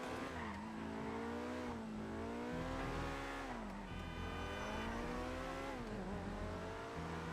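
A car in GTA Online's Arena War drives and revs steadily, its engine pitch rising and falling in repeated sweeps, with tire noise underneath, loud and close throughout.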